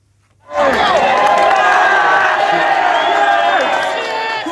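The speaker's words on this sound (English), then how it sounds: "Crowds cheered as a fire burned outside the Holiday Inn at Tamworth in Staffordshire" A large crowd cheers and whoops continuously outside the burning Holiday Inn at Tamworth, Staffordshire, a sustained loud roar of many voices that rises suddenly and holds steady with scattered shouts.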